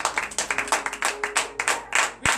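A church congregation at a morning prayer service claps in a lively, uneven patter of individual hand strikes, close and moderately loud, with no clear cheering audible.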